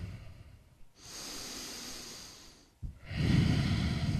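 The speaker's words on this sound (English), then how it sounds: "We need to be able to keep that breathing slow and controlled." Slow, controlled nasal breathing during a yoga session: a long drawn breath, a pause, then another deeper, louder breath close to the listener, with no speech.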